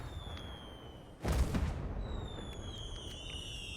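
A video game firework launches with a sudden loud burst that decays into a lingering crackling rumble, with faint whistling tones around it.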